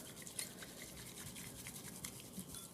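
A bamboo whisk beats matcha powder in a bowl, giving a soft, steady scratchy swishing with faint liquid drips, close and quiet, with no talking.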